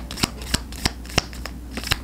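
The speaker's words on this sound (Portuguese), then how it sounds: "Eu vou até tirar mais uma carta pra essa lontra." Tarot cards shuffled and drawn by hand, heard as crisp, evenly spaced snapping riffles about three per second over a soft, steady background.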